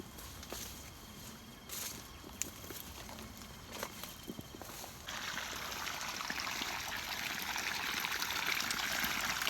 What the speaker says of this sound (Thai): น้ำไหลมาเนี่ยเต็มท่อแล้ว